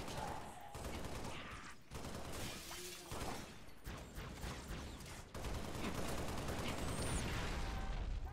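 Dense, continuous gunfire and crashing blasts from a shotgun in the video game Halo Reach fill the whole stretch, loud and layered, with some voices talking underneath.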